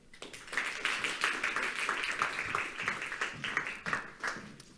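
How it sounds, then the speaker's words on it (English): Audience applause at a forum session for two youth council representatives, a quiet patter of many hands clapping steadily for several seconds, heard from some distance. "please give it a big applause for Biljana Popovic and Julian Stöckle"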